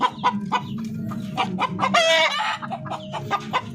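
Several Darag hens cluck in short, repeated bursts close by, with one longer, louder rising call in the middle, against the background noise of a farmyard.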